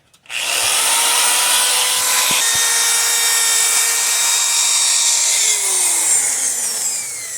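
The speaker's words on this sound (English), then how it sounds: "See what the wire wheel does for it." A power-driven wire wheel scrubs old dried Fix-A-Flat sealant off a wheel rim, a loud, continuous high-pitched grinding whine that holds steady for several seconds close by, with slight shifts in pitch as pressure changes.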